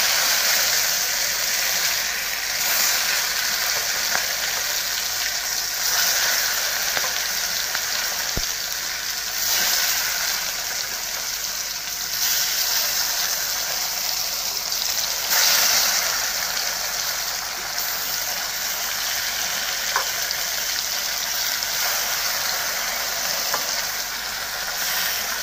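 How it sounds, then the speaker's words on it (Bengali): Food pieces dropped one by one into hot oil sizzle and fry in a steady, close, continuous hiss with faint stirring clinks and no voices. "তেলটাও গরম হয়ে গিয়েছে, তো এগুলো আমি একটা একটা করে ছেড়ে দিই।"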